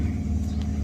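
A race car engine, running smoothly after a distributor swap while the motor is broken in, idles with a steady low rumble close by, no talking over it.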